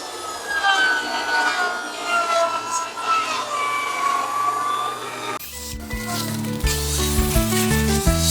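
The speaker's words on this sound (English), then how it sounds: "I'm going to rip a bunch of 1x3s to strap the roof" Saw ripping 1x3 wooden boards lengthwise for roof strapping on a barn porch, a loud, close, continuous cutting whine that shifts to a harsher, rougher rasp partway through.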